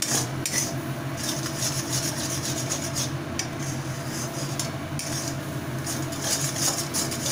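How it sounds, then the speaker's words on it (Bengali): A metal spatula scrapes around a wok (kadai) while bean lentil bharta is cooked. Steady rasping strokes repeat, with occasional sharper clinks, close up and with no talking. "কড়াইটাকে ভালোভাবে আমাদেরকে এভাবে কাচিয়ে কাচিয়ে পরিষ্কার করে নিতে হবে।"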